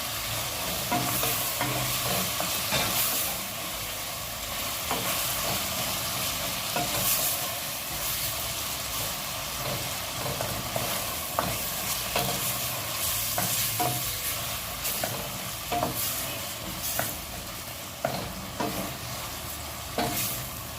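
Mixed vegetables sautéing in a pan with chicken to follow, an even hissing sizzle throughout with periodic spatula scrapes and taps, fairly quiet and close, no speech.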